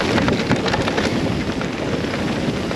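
Strong wind roars over the microphone on a mountain bike jump trail in Rotorua, making a loud, constant buffeting rush with no clear voices.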